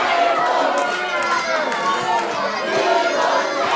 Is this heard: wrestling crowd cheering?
yes